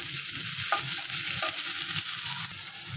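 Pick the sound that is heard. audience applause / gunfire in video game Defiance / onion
onion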